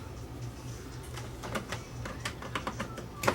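A secondhand tape deck bought on eBay, with its guide railing just refitted, threads a cassette tape: a steady low motor hum under a run of mechanical clicks and whirs, ending in a sharper clack.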